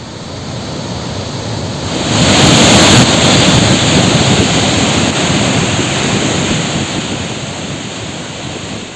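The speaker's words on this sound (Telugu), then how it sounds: "జలాశయం దగ్గర 8 గేట్లు 18 అడుగులెత్తి నీటిని కిందకు విడుదల చేస్తున్నారు" Flood water roars out of eight dam gates raised 18 feet at the Srisailam reservoir, a loud, continuous, rushing thunder of water that swells and stays dense throughout, with no voices.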